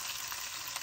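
Minced garlic and onion frying in rendered chicken oil with a little added oil, a steady close crackling sizzle throughout.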